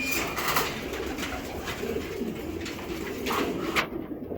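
Racing pigeons give short, continuous rolling coos close by, overlapping one another for a few seconds without talk.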